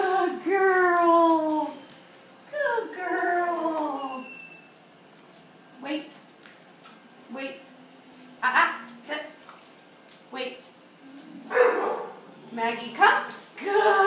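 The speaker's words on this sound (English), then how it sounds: "I know, the doggy barking in the back." A dog in the background gives repeated high yips, barks and whimpers in uneven bursts, some close and some faint, with pauses between them.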